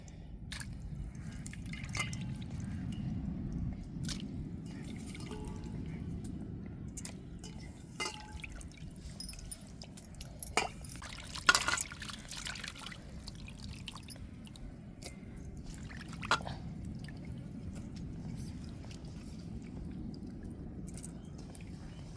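Dried fish (karuvadu) rinsed by hand in a bowl of water in a home kitchen, giving soft, irregular drips, splashes and squishes, quiet and close, with a few sharper splashes midway and no talking.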